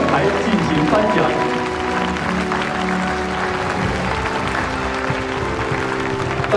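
Sustained applause from an audience at an award ceremony, a steady dense wash of clapping at even loudness throughout, with voices mixed in beneath it.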